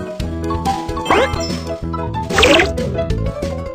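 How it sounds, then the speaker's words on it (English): Cartoon-style sound effects of fuel being poured into a fireworks machine, made up of bubbly liquid glugs and bright tinkling chimes in two short bursts over a steady musical backing. "Pour the fuel into the fireworks machine."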